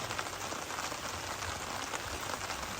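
Rain falling at a farm in Tanay, a steady, even hiss of drops on surfaces, fairly faint and continuous, with no voices over it.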